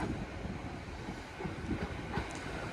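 A Merseyrail Class 777 electric train runs on the line toward Liverpool Central near Chester, giving a steady rumbling roll with faint rhythmic clicks, moderately loud and continuous throughout.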